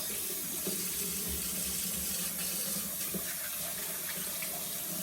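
Tap water runs steadily from a faucet into a sink during handwashing, a continuous close splashing hiss with no talking.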